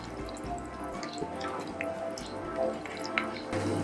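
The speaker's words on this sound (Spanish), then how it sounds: "vamos a filtrar el agua" Water poured off soaked cashews after a one-minute boiling-water bath, a steady close trickle and patter of dripping liquid with small splashes and squishy wet sounds throughout, ending in a louder rush.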